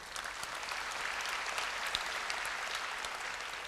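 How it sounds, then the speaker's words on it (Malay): An audience at a UKM opening ceremony applauds former Prime Minister Tun Dr Mahathir, sustained broad clapping from a large hall crowd, steady and even across the whole stretch with occasional sharper individual claps. "Satu tepukan untuk Tun."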